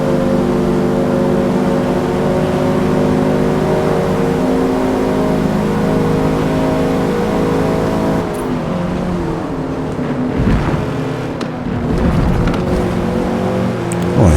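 A racing car's engine drones loud and steady in Forza Motorsport, holding a high roaring note before dipping and revving through gear changes toward the end, with no voices.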